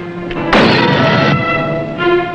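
A WWII submarine fires a torpedo, a loud, sudden hissing whoosh that holds about a second over a humming background, then fades.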